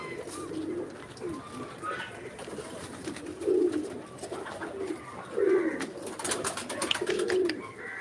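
Pigeons, including an Indian banded pigeon, coo repeatedly in soft, low, rhythmic bursts, close by, with scattered rustling and faint background noise around them.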